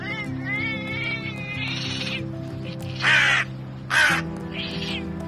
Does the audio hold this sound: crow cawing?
yes